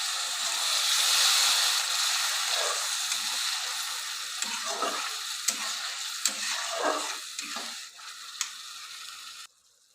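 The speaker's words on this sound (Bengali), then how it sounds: "পরিমাণ মতন এর মধ্যে জল দিয়ে ভালো করে মশলাটাকে কষিয়ে নেব" Spice masala for a Bengali crab curry fries with a little water in a pan. A bright, steady sizzle is broken by scraping stirs and clinks, then cuts off abruptly near the end.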